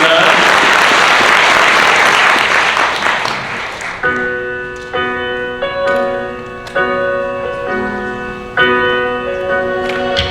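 A wedding audience claps loudly and steadily for about four seconds, then the applause fades out as piano chords begin a song.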